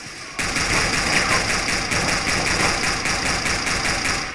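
Rapid gunfire in a CS:GO deathmatch, dense and continuous, with fast repeating bursts that carry on loud and close for the whole stretch over a steady game background.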